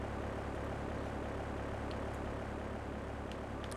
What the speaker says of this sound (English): I guess I need to take the plane this time.